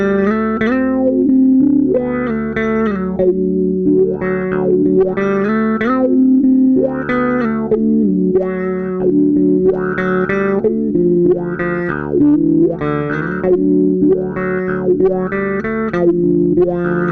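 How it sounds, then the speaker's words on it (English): Bass guitar through a Wilson 12-position wah rocked slowly like a phaser, a repeating bass line with a steady rhythmic sweep rising and falling about once a second, loud and alone. "One thing I like to do with wahs sometimes is just use it almost like a slow phaser that you can have control"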